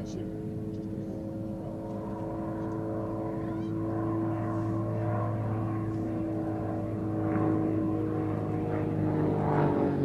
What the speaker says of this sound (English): The tutor is constructed of a carbon composite material and has a 180 horsepower Lycoming piston engine.